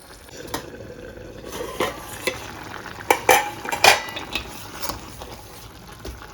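Bitter gourd and tomato cooking in a pot, with a steady low bubbling bed broken by scattered clinks and scrapes of a spoon stirring against the metal, moderately close and without talk.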